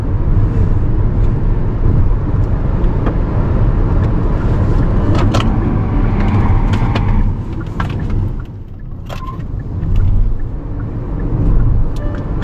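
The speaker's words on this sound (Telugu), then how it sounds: "ఎలక్ట్రికల్ కార్ డ్రైవ్ చేయడంలో ఉండే ఫన్ ఇప్పుడు మీకు చూపిస్తాను." A Hyundai Creta electric car drives along, with a steady low road and tyre rumble and wind noise inside the cabin, easing slightly near the end, and no speech.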